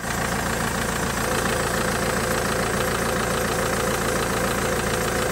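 Alfa Romeo 159 engine idling after an oil and filter service, a steady close rumble with an even, unbroken throb throughout and no talking.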